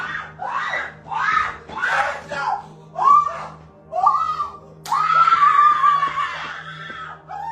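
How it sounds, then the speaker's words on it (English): A woman screams and wails repeatedly during a fight streamed live from inside a home, with loud, strained cries coming in rising bursts about once a second and a longer sustained scream near the end, mixed with shouting voices. "People on Facebook could hear Khadijah screaming that she didn't want to go to jail"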